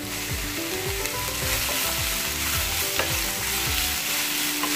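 Julienned onions stir-fry in a pan for a chicken kathi roll, with a constant hot sizzle and rhythmic, regular scraping strokes of a spatula, close and fairly loud, with no one speaking.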